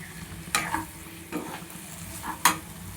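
Nalla curry frying in a pan with garam masala, a low steady sizzle broken by a few sharp spatula scrapes and knocks against the pan, no talking.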